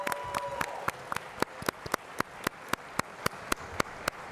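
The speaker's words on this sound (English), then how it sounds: "Let's give them a round of applause." Applause from a convention panel audience at Dragon Con 2024, sharp regular claps ringing out close and clear over a softer spread of crowd clapping that builds toward the end.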